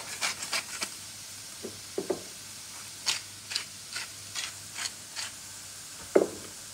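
Pepper mill grinding pepper over food browning in a pan, heard as a series of short, dry crunching clicks in irregular bursts against a quiet background.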